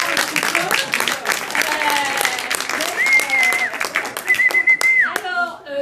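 Audience applauding in a museum setting, a burst of many hands clapping with sharp dense taps, sustained then thinning toward the end, with tonal music or electronic tones rising over the clapping.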